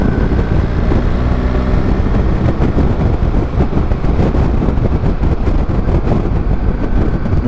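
A BMW R1300GS Adventure motorcycle engine runs steadily in fifth gear at road speed, a loud continuous drone mixed with wind rush and no talk.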